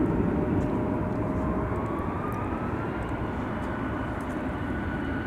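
Antonov An-124 cargo jet departing from runway 30 left, a steady distant roar of jet engines with a slowly shifting tone, continuous and alone.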